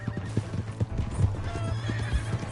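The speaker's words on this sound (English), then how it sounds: "That's my horse!" A horse in the Red Dead Redemption 2 video game clops along with steady, rapid hoofbeats, close and fairly loud, with a whinny mixed in over a low droning game background.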